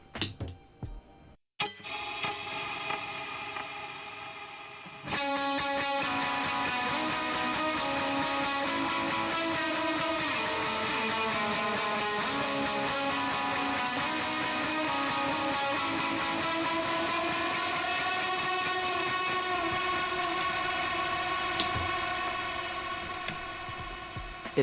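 Electric guitar played with overdrive and long delay through a Boss RV500 reverb preset, sustained chords ringing into a huge wash; steady and fairly loud after a brief start, with no talking.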